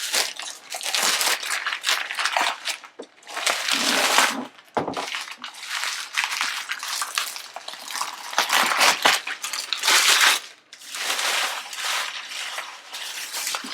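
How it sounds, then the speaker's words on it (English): A plastic protective cover is peeled and pulled off a brand-new Cricut Maker cutting machine, close-up crinkling and crackling in irregular bursts with brief pauses, no talking. "Let's take this plastic cover off."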